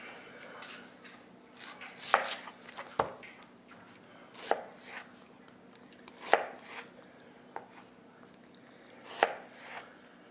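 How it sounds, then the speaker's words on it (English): A knife cuts an onion into fairly thick slices on a board, about a dozen sharp, irregular chops with quiet rustling between them, close by and alone. "So you can see we cut it in not terribly thin slices"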